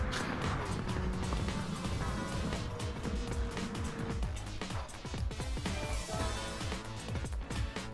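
Mazda RX-7 rotary Wankel engine racing in Gran Turismo 7, a dense, steady high-revving drone with shifting pitch and occasional impact noises, loud and continuous throughout.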